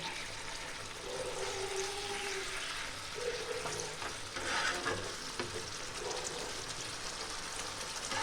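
Fish curry with mustard oil and mustard paste simmers in a pan on a gas stove, giving a steady, continuous bubbling sizzle with soft wet popping throughout and no voices.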